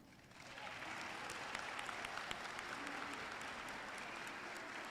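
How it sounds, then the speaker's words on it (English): An audience applauds the May 2021 nursing class at the Delgado Community College Charity School of Nursing pinning ceremony, sustained even clapping that swells in after a moment and stays level, heard from a distance in a large hall. "Let's give a round of applause for the whole class of May 2021."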